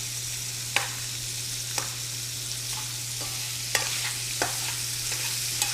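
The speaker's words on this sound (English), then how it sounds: "If any of your seafood starts to stick in the pan, that's the searing action taking place" Shrimp and other seafood sear in a pan with a constant hiss, punctuated by occasional sharp pops and utensil taps over a low steady hum.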